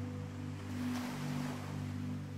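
Sea waves washing in a gentle swell, a soft rising and falling rush under a steady low hum, calm and unbroken.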